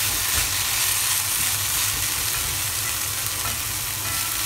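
Green beans and potatoes stir-fried and tossed in a pan, a dense, continuous loud sizzle with scraping and shuffling of the vegetables close up, no talking.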